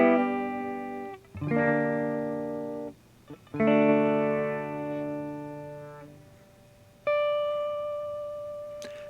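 Electric guitar chords through an amp with no added effects, several strummed hits ringing out and cut off, then a final sustained chord decaying.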